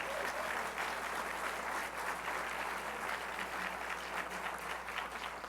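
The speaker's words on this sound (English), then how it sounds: "How about we kick this all off with a quick round of applause for all the deserving winning teachers" Dense, steady applause from an evening audience at a Rotary Teacher of the Year awards ceremony in Boca, honoring the winning teachers. The sustained clapping fills the hall evenly without pause, with no speech over it.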